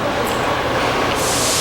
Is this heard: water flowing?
no